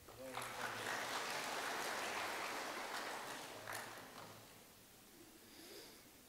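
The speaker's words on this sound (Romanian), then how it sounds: "Hai să-L aplaudăm!" A congregation at a Romanian church service applauds in a broad, steady wash of clapping that fades over several seconds, with voices mixed in.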